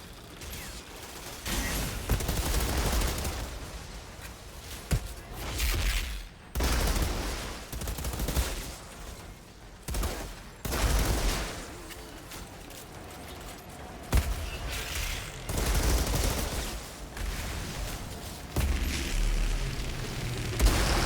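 Repeated sniper gunfire in the Outriders shooter game, loud cracking shots with booming tails arriving in irregular bursts over about twenty seconds, fairly close.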